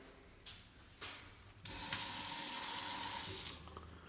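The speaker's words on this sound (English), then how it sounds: "New faucet." A new kitchen faucet is turned on and runs in a steady, bright hiss of water into the sink for about two seconds, preceded by two faint clicks of the handle and then shut off.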